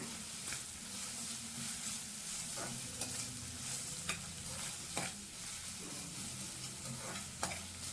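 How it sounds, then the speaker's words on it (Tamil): Onions, ginger and garlic sauté for paneer biryani, a steady sizzle in the pan broken by occasional sharp spoon scrapes as they are stirred, heard close with no speech. "இஞ்சி பூண்டு வந்து இந்த பச்சை வாசனை போகிற அளவுக்கு நம்ம நல்லா வணக்கி எடுத்துக்கலாம்."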